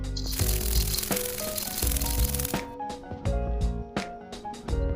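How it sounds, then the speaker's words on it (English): Dragonfly wing buzz: a loud, rustling, crackly whirr for about two and a half seconds over light background music, then the music continues alone. "Dragonfly."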